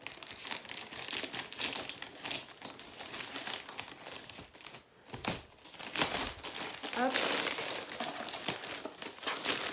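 Crinkling plastic envelope being handled and cut open with scissors, with close, irregular crackles and rustles throughout and a few brief louder tearing bursts, no speech.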